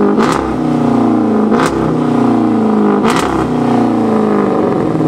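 A car with a loud aftermarket exhaust revs repeatedly at a car meet, a sustained droning engine note with sharp blips and pops at intervals, close and loud.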